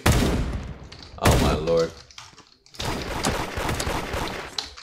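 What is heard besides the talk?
gunfire in the video game Da Hood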